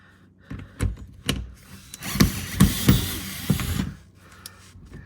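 Bolts being loosened by hand tools on a 2024 Toyota Corolla Hybrid, a cluster of close metallic clicks, knocks and ratcheting creaks in an irregular rhythm.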